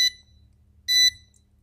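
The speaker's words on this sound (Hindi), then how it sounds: "अब ये 7 वोल्टेज से जैसे नीचे जाएगा तो अब ये बीप शुरू करेगा।" A BM730 voltage meter sounds its low-voltage alarm with two short, high electronic beeps about a second apart, clear and near over a faint low hum.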